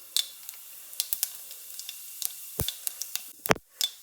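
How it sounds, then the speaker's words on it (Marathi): Cumin seeds crackle in hot oil after mustard seeds, a steady close sizzle broken by sharp irregular pops and ticks, with no talking. "मोहरी चांगली तडतडल्यानंतर आपल्याला घालायचे आहे जिरे।"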